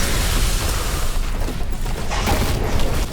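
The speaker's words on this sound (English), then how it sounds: "I'm gonna try and hit him with a crack grenade" A crack grenade goes off in Warhammer 40,000: Boltgun, a loud, thick boom with crackling debris that rolls on through the moment amid ongoing combat noise.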